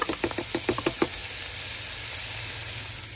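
A whole onion drops into a hot buttered pan for creamy chicken pasta, a quick run of sharp crackles and pops at first, then settling into a steady soft sizzle.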